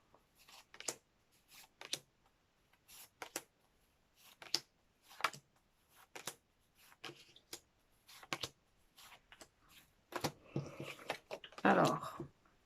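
Tarot cards shuffled and drawn for a Libra reading, a series of soft slapping and riffling bursts at irregular intervals, building to a denser shuffle near the end, close and quiet.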